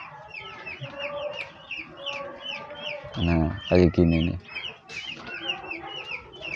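Green junglefowl clucking in repeated short bursts, with a louder close run of clucks in the middle, while someone talks over much of it.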